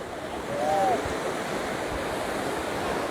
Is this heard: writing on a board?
no